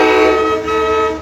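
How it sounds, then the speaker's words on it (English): An HSP46 locomotive at a rail yard sounds its horn in one loud, close, sustained chord blast lasting just over a second. "Really hope he doesn't honk the horn."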